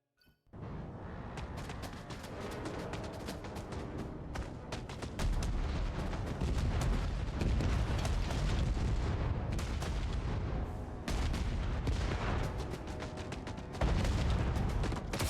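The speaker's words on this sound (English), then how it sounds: "So the shells come out of it no matter where the cannon's actually pointing at." Cannon shells firing in the Starship Troopers video game, a dense, continuous barrage of booming blasts and crackling impacts that runs loud and unbroken for the whole stretch, with no voices.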